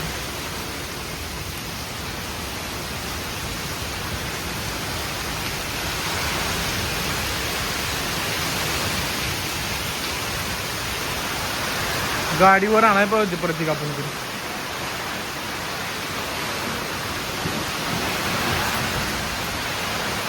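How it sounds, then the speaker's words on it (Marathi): Heavy rain pours steadily on a camping tent in Tasgaon in a constant broad roar, with a brief burst of voices talking midway through. "पाऊस लय जोरात चालू आहे तासगाव मध्ये आता"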